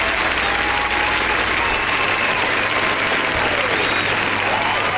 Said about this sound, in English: He's got a very hearty round of applause for that.